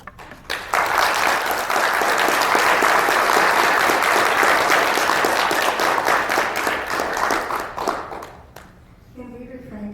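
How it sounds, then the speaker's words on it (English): An audience at a city council meeting breaks into loud, sustained clapping that swells for several seconds, then fades out, leaving a few scattered claps and murmuring voices near the end. "Can we refrain from clapping until we get through with everyone speaking to allow everyone their time?"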